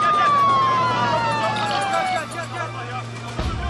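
An ambulance siren wails with a long falling tone, loud and steady, over crowd hubbub and shouting voices at a street emergency scene where a man lies injured.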